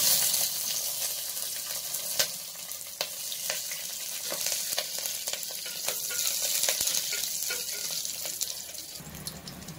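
Dried red chillies and fenugreek seeds fry in hot oil for millet sambar rice, giving a continuous close crackling sizzle with scattered sharp pops and no voices.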